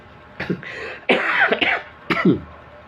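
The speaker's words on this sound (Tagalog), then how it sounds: "Ako inuubo." Three separate bursts of coughing, close and fairly loud, with short pauses between them and no talking.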